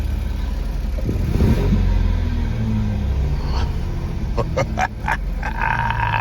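A 2002 Ford Mustang LX with a 3.8 liter engine cranks, catches and settles into a rumbling idle, then gets a few quick revs, heard up close with no talking.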